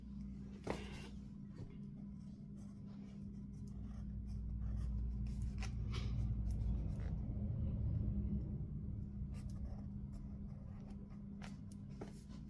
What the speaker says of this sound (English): I'm going to give you your pencil. I want you to write your name up top.